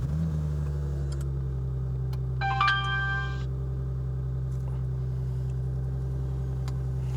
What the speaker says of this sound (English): Let's start up the car and just let it run.